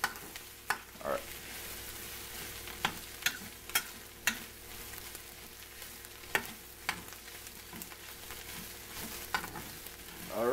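Breakfast food sizzles steadily in a pan, with a dense frying hiss throughout and irregular sharp clicks and scrapes as it is stirred, close and fairly quiet, with no talking.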